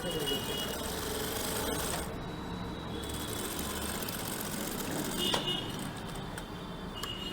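Sewing machine stitching a pocket on a V-shaped waistcoat, a steady continuous mechanical whirr running throughout at moderate level with a few faint clicks.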